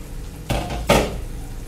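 Chicken chaap masala stirred in a pan, with two distinct scraping clatters of a spoon against the pan over a low sizzling background.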